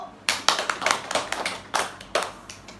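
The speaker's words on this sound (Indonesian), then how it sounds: "Boleh kita tepuk tangan dulu, Bu" A small group claps their hands in a classroom-style social welfare session, giving a short burst of several loud, uneven claps with a faint voice in the background.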